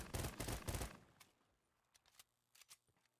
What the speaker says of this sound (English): I actually like this pistol. It's actually pretty good.